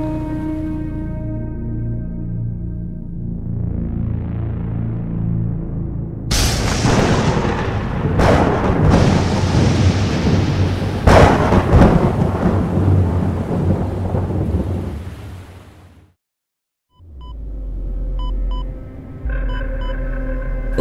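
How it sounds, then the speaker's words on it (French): A heavy thunderstorm: steady rain hiss broken by loud, close thunder cracks and long rolling rumbles, a brief near-silent gap, then rain and low thunder returning. "Barry, cet orage a fait des ravages ici aussi."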